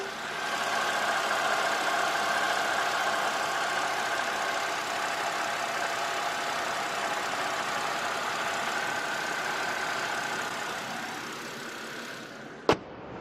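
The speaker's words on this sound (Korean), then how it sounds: "정말 안정적인 그런 엔진 소리를 들려주고 있는데 가까이서 들려드리도록 할게요" A BMW 528i (fifth-generation 5 Series) engine idles steadily up close, a smooth continuous hum that stays even throughout, ending with a sharp click.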